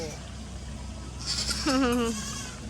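A goat at a family farm park gives one loud, wavering bleat close by, rising then falling over steady background hum.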